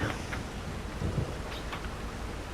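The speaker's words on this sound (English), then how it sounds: "Oh, it's just starting to rain." Soft steady rain hiss with faint low rumbles in the video game Farm Sim 25, a gentle shower settling in without voices.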